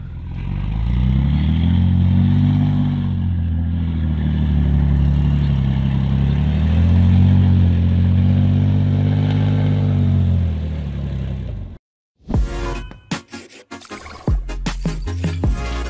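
A car engine revs loudly and continuously with a deep exhaust rumble, rising and falling in pitch, then cuts off abruptly into a clattering burst of noise.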